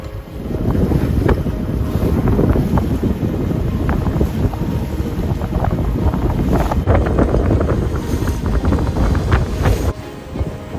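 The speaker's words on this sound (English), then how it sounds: "the wind's going to be coming down between the valleys like crazy" Strong wind roars steadily across the microphone while a sailboat moves through water off Kos Island, Greece, in gusts up to 25 knots, with sloshing and buffeting throughout and no voices.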